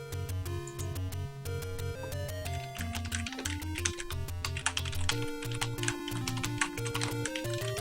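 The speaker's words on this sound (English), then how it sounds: "And Whack and Vern are both typing it down." Rapid keyboard typing clicks patter along continuously beneath steady background music with a repeating low melodic line.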